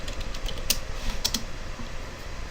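Quick keystrokes on a computer keyboard while a title name is entered in editing software, a few sharp clicks standing out over a steady background hiss, close and fairly faint.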